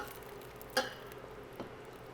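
Cheese sauce is stirred into macaroni with a soft, quiet scraping, marked by one brief louder scrape and a fainter second one a moment later.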